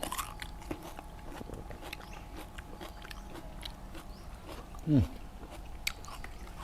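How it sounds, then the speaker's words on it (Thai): Bites and chews into crispy-skinned roast suckling pig, with small crunchy sounds scattered through the clip, a firmer crunch near the end, and a steady low background noise throughout. "เนื้อนุ่มหนังกรอบกรอบนอกนุ่มใน"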